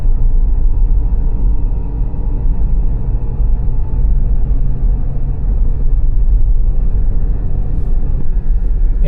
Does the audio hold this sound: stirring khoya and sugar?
no